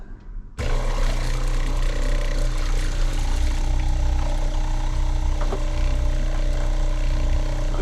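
A water pump starts after a brief quiet moment and then runs with a loud, steady droning hum that continues through to the end. It is close by and no one talks.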